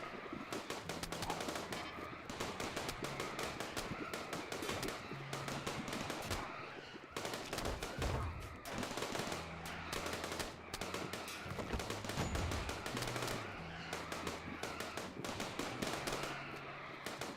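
Turret gunfire from the Rimworld video game rattles in dense, continuous rapid bursts against a raid, loud and relentless with only brief gaps, overlaid by a low droning music bed.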